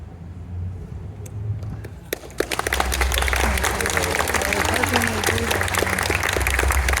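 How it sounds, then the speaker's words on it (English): A crowd bursts into applause after a song, with a few scattered claps at first and the applause swelling near the two-second mark into loud, sustained clapping. "Let's give them another round of applause."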